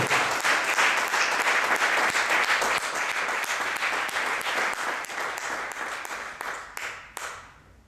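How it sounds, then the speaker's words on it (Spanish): Church congregation applauding loudly for Jesus during a sermon, a strong sustained burst of many hands clapping that thins into a few scattered final claps. "Demos un aplauso fuerte a Jesús"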